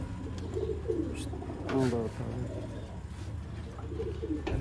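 Close pigeons from a breeding pair coo in soft, repeated rolling calls over a steady low background murmur.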